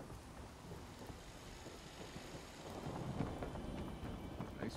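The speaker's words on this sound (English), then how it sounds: "of course it's raining now." Rain patters steadily in the video game Fallout 4 while a low rumble of thunder swells quietly underneath, growing somewhat louder toward the end.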